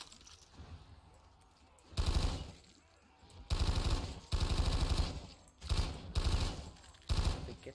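MG08 machine gun firing in Black Ops 3 Zombies, several loud sustained bursts of rapid automatic fire separated by short pauses, close and without talk.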